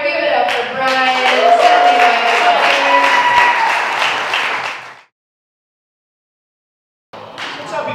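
A comedy club audience applauds loudly for about five seconds before the sound cuts to silence, then clapping resumes abruptly near the end.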